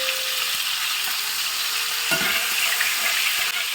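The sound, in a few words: marinated fish shallow frying in oil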